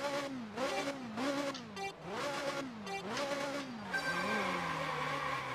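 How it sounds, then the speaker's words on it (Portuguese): Ferrari 355 engine from the Ferrari 355 Challenge racing game on Dreamcast at Suzuka, a high-pitched buzzing wail rising through repeated gear shifts, pitch climbing and dropping in steady cycles, loud and close with no talking. "Barulho da Ferrari."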